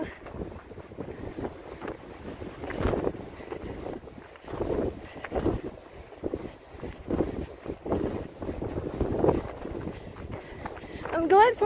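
Gusty wind buffets the microphone outdoors beside a golf course, rumbling in uneven swells and low bursts that rise and fall throughout, with a few faint footsteps and light background sounds mixed in.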